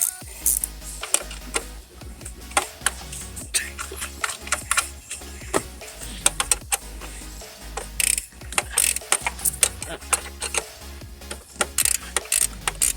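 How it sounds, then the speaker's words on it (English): A ratchet wrench loosening a part during a tune-up on a 2009 Nissan Xterra gives rapid bursts of close, sharp clicking in repeated runs, with brief pauses between strokes and no talk. "Ratchet and wrench is awesome."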